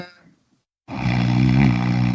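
A person imitates a snore with a voice, a loud, rough, sustained rasping drone starting after a short pause and a brief faint sound, close and steady to the end.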